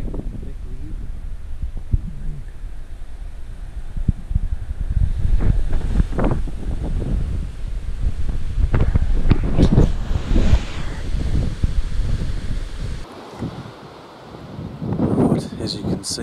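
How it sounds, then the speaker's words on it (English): Strong, gusty wind roars across an open hunting area outdoors, buffeting the microphone in loud surging waves with a brief lull near the end. "That wind's pretty bloody intense. Those gusts are coming in strong."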